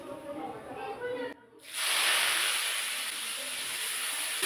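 Chopped onion dropped into hot oil with whole cumin seeds, bursting into a loud, steady broadband sizzle that holds on after a short quiet pause, close and continuous.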